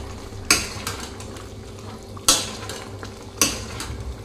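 Fried paneer cubes stirred into sauce in a pan for restaurant-style chilli paneer, with three sharp scrapes of a utensil against the pan, each fading out, over a low steady background hum.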